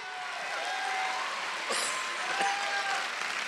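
A church congregation clapping and cheering at a New Year's Eve service, a dense, sustained wash of applause with shouting voices rising through it, growing slightly louder toward the middle.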